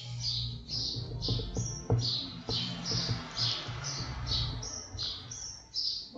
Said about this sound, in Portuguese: O passarinho ali tá feliz.